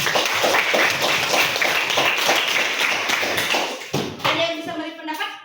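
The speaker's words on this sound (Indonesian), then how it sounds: "Tepuk tangan saya dong." Hands clapping in a classroom group, a lively burst of applause with a busy patter that thins out near the end as voices come through.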